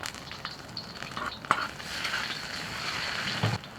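Ginger and garlic sizzling in hot pork fat in a wok while a home-style braised eggplant is cooked, a steady frying hiss with a few sharp clinks and stirring sounds, no talk.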